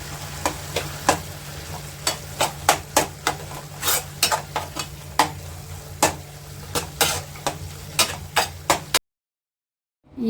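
A spatula clacks repeatedly against a pan as mixed sprouts palya with chopped dill leaves is stirred, sharp irregular scrapes over a soft sizzle, stopping abruptly near the end.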